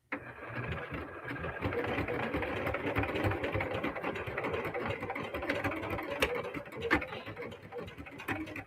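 A Singer Heavy Duty sewing machine topstitches a crossbody bag, its motor whirring with a fast needle knock at moderate loudness, steady and alone, with a few small clicks near the end.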